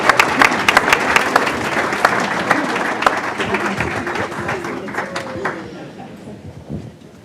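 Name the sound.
applause for student award recipients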